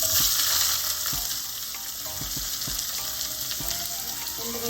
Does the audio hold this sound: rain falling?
no